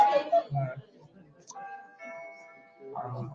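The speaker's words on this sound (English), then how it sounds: "So I don't know what this bell keeps ringing is behind me." Bell ringing behind a speaker during a spiritual discourse, a sustained chiming tone that rings on briefly and resonates between bursts of close male speech in a quiet room.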